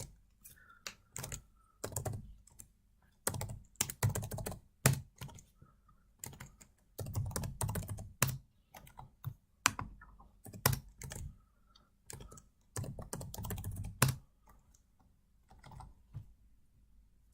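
Computer keyboard typing in irregular bursts of quick clicks separated by short pauses, close and fairly quiet, with no talk.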